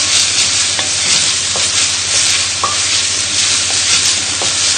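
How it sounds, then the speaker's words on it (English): Onions frying for a lamb tagine are stirred in a pan, giving a steady loud sizzle with scraping stir strokes throughout and no talk. "just give the onions a little stir again"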